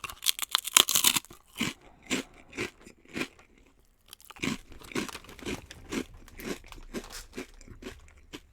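Loud, crisp crunching from close-up chewing of barbecue pork rinds, a steady series of crackly bites and chews with brief pauses, no talking.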